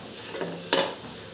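Eggs fry lightly in a little oil in a pan, a soft steady sizzle with a brief louder crackle or stir midway, close and without speech.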